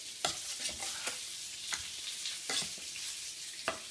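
Ingredients being stirred and mixed in a hot pan, with a steady sizzle of frying under repeated scraping strokes of a utensil, close and moderately loud, no talking.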